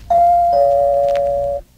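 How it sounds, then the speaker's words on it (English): A doorbell rings once, a bright two-tone electronic chime with the second tone held long before stopping abruptly, close and clear. "and rings the doorbell"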